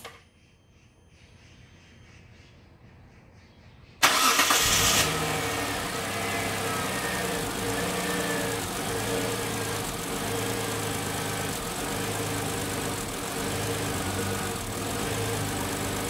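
A car engine fires up abruptly after a few seconds of quiet, with a loud burst at start, then settles into a steady, close idle with a low rhythmic throb. The car is in a repair shop, being checked for a faulty sensor.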